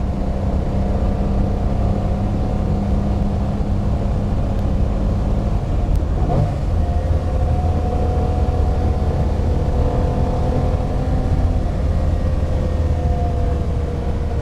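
A 1957 Ferrari 250GT Low Roof Boano on the road, its engine giving a steady, continuous drone with tyre and wind rumble beneath, one brief sharp transient partway through, and no talking.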